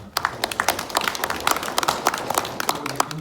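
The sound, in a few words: audience applauding panel members at a forum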